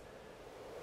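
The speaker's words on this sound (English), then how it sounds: "if I use a bandpass filter with a frequency set to 500 and a resonance set to 3, that's going to sound like this" White noise shaped by a bandpass filter centred at 500 Hz with resonance 3 gives a steady, soft hiss with a faint tonal hum, even and unbroken throughout.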